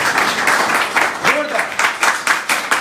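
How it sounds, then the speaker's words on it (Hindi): A crowd at a Modicare business event claps loudly in steady, continuous applause, with a voice speaking over it. "सबसे पहले उसके लिए जोरदार ताली मारो"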